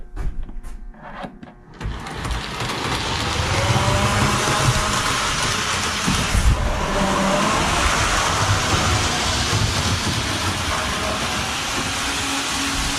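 A live-steam model Thomas train runs around a layout, with a continuous rushing hiss of steam and a rolling mechanical rumble that rise after a few brief knocks and carry on steadily to the end.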